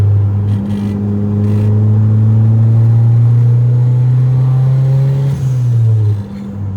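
A turbocharged Honda Civic with a custom full exhaust and blast pipes revs loud and close, a steady deep drone climbing in pitch, then dropping off with a blow-off release near the end.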